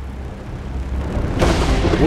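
A thunder-and-rain effect heralds the god of thunder: after a low, murky hum, a broad rushing roar swells in suddenly and holds, loud and full like a thunderclap rolling into heavy rain.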